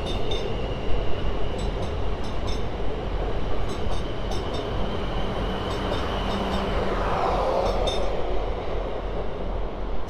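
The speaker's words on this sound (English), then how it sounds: "This train is finally going" A train pulling out of Basingstoke station on the South West Main Line, a steady broadband rumble of wheels and carriages rolling alone, with faint clinks and a slight swell in the final seconds.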